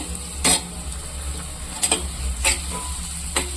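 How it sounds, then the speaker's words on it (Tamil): Paneer stirred in a pan with sautéed onion, chili and ginger-garlic paste: a steady sizzling hiss beneath a few sharp utensil scrapes and clicks against the pan, close and moderately loud. "நல்லா வதக்கி வச்சு இந்த பன்னீர் போட்டுக்கலாம்"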